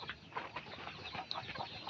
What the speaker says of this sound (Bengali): এই দেখেন এটার ভিতরে দুইটা মুরগি আছে